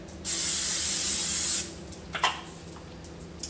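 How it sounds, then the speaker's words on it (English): Cooking spray hisses onto an omelette pan in one steady burst of just over a second, followed by a couple of small clicks and taps. "Spray my pan, or use butter if you're using butter"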